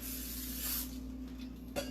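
Cooking spray hisses from a can onto a bundt pan in a kitchen, one loud sustained burst under a second long, then a quieter tail and a small knock, over a low steady hum.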